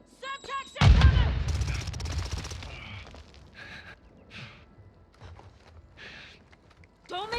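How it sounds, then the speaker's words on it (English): Gunfire in the Warzone 2 battle royale game on the Vondel map, with a loud burst of shots near the start, then scattered fainter impacts and movement sounds. A voice speaks briefly at the start. "Taking effective fire!"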